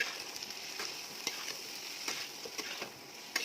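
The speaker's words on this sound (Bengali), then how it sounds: "এবার মশলাটা একটু হালকা ভাজা ভাজা করে নেবো" Ground spices (turmeric, cumin and chili powder) frying in oil in a pan, a steady close sizzle with scraping stir strokes every half second or so.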